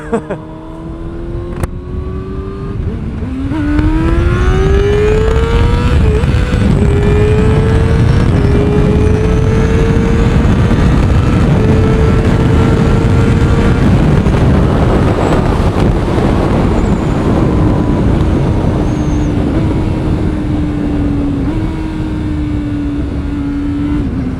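A motorcycle accelerates hard on a Dutch road, its engine note climbing through gear shifts with steady wind rush against the microphone, loud and close.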